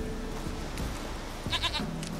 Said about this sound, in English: So now that we have the goat, we just lure it along.